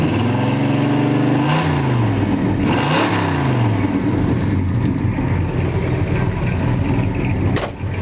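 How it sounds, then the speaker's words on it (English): A 1963.5 Ford Galaxie 500XL engine idles loud and close, then revs up twice, its pitch sweeping up and falling back before it settles into a rough, steady rumble. "I'll give it a little rev so you can hear what the ignition sounds like"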